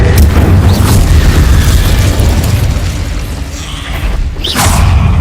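Loud booming blast from the Confringo fire-bolt spell in the Hogwarts Legacy video game, a dense rumbling explosion that swells, dips briefly, then surges again with a sharp whooshing burst near the end.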